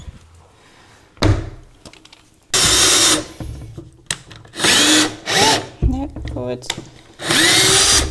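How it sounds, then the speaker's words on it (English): A power drill with its bit stuck in a door whirs in loud repeated bursts, stopping and starting several times, with a voice speaking briefly between the runs. "What do you do when the drill bit gets stuck in the door?"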